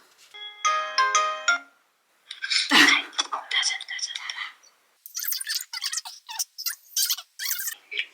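A phone ringtone plays in short repeating tonal bursts as friends are called, followed by someone talking with a friend over the line.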